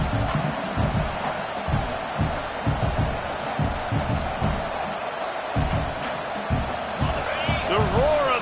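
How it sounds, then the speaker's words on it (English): A stadium crowd at a football game roars steadily throughout, a dense continuous wall of noise with a few faint whistle-like tones near the end. "The roar of the crowd trying to fuel this defense to keep them pinned in their own end"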